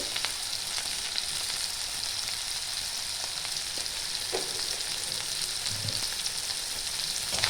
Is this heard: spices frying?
yes